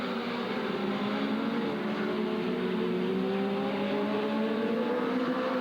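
Dwarf cars racing at Southern Oregon Speedway, a steady roar of several engines droning together at a distance, with rising and falling pitch as the cars run laps.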